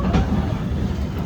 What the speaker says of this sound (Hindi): चले यहाँ पर अपनी ट्रेन अराइव कर रही है सतना जंक्शन पे।